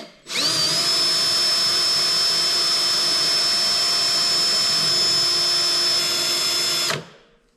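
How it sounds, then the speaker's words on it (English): A power drill whines continuously for about six seconds, boring out fastener holes, loud and close with a steady high pitch that ramps up at the start and cuts off at the end. "drill those out so I can put screws back in"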